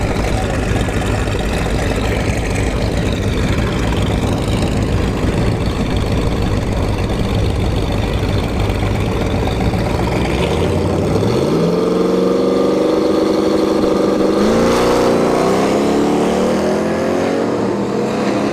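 Drag racing trucks, a Turbo Silverado and a Blazer, roar loudly down a dragstrip. A sustained heavy engine drone gives way to a rising whine as they accelerate away.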